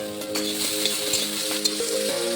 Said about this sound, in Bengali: ভালো করে ভেজে নিয়েছি